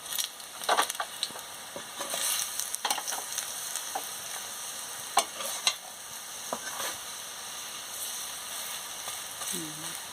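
Gima greens fritters sizzle in hot oil, a soft continuous frying hiss broken by a handful of sharp spatula clicks and scrapes as they are pressed and turned, with brief faint voice sounds.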